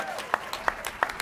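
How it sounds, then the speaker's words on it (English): Scattered, evenly spaced claps from an audience at a voter-integrity rally in Madison, several sharp hand strikes about a third of a second apart, with speech around them. "Could you give him a round of applause?"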